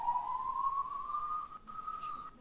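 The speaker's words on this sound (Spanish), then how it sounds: "No sé de dónde viene esa ambulancia, pero me está dando un mal rollo." An ambulance siren sounds as a single long steady wailing tone that rises slightly, moderately loud over low background noise, without talk.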